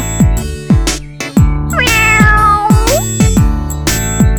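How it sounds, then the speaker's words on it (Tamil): A cartoon kitten in a sunny garden meows several times, loud and close, with high, sliding cries over a steady, rhythmic backing. "அவ ஒரு அழகான பூனைக்குட்டியை பார்த்தா"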